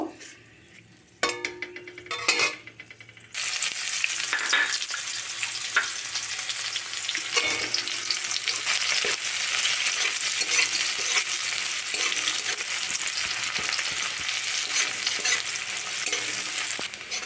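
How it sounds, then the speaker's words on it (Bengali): Onions fry in oil left over from frying fish, a loud, dense sizzle that surges in after a few opening clinks and scrapes and then holds steady with occasional stirring. "পেঁয়াজটা ঠিক এরকম একটু লাল লাল ভাজা ভাজা হয়েছে"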